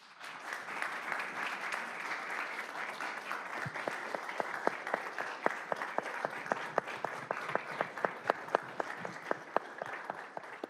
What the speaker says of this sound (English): Please stand with me and clap your hands